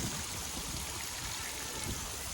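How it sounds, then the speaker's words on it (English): Water trickling and splashing onto freshly sown seeds in a garden container, a soft, steady, close-by pattering stream with no talking. "I'm going to water these in"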